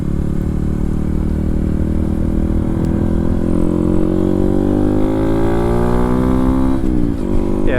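A 2022 Honda Grom motorcycle at speed on a top-speed run, engine droning steadily and loud with a rising pitch as it climbs through the gears, plus a brief shift dip near the end and heavy wind rumble throughout.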